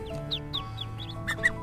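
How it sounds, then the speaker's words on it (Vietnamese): Newly hatched ducklings on a rural Cà Mau farm give a run of thin, high peeping chirps, some close and sharp, over a low steady background. "Này là vịt con mới nở nè mọi người"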